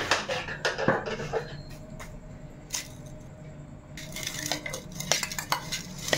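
A spoon clinks and scrapes against a bowl while chili powder, turmeric and salt are stirred into an onion omelette egg mixture, with irregular close-up taps and a brief pause midway.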